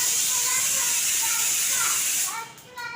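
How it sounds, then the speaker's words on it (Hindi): Spices tempering in mustard oil heated to boiling temperature give a loud, steady sizzling hiss close by, easing and breaking up near the end. "और ये तड़का लग रहा है।"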